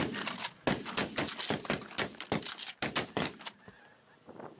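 A flock of snow geese honks steadily during a spring conservation hunt in northwest Missouri, with dense overlapping calls close and loud, thinning out toward the end.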